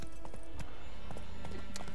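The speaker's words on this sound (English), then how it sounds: "Get on my horse and get the frick out of here." Horse hooves clip-clop in The Witcher 3 as the rider mounts up and sets off, a steady run of sharp, fairly close hoof strikes over a busy game soundscape with low ambient rumble.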